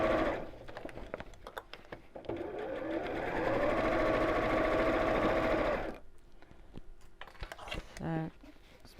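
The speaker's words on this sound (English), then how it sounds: "So just coming up along the final side here. Just making sure my raw edges are lined up as I sew." A sewing machine stitches along the final side of a fat quarter storage box, a steady mechanical whir running for several seconds between softer starts and stops, with someone talking over it.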